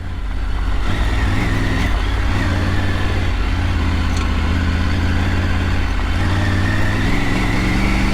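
A Triumph Tiger 900 motorcycle climbs an off-road uphill trail, its engine droning loud and steady throughout, close up with a dense low rumble and no voices.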